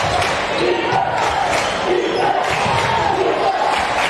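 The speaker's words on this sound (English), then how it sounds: "the crowd is getting louder and louder for the Rangers" Student section crowd roaring for the Unaka Rangers at a high school basketball game against Hampton, loud and sustained with shouts and a few ball bounces mixed in.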